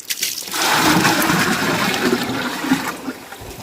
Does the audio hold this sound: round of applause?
no